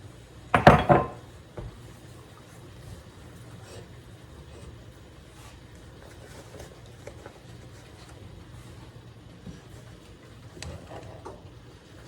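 Six and a half cups of sugar are dumped into a pot for carrot cake jam, a short loud rushing pour near the start, followed by a quiet room with faint clinks.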